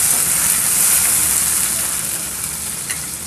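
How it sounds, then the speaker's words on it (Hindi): Chopped tomato goes into a pan of potato and capsicum sabzi frying in oil, giving a steady, loud sizzle that holds evenly and eases slightly toward the end, with soft stirring underneath and no voices. "चलिए अब हम इसमें एक मीडियम साइज़ का कटा हुआ टमाटर डाल देते हैं, और इसे भी हम चला देंगे अच्छे से"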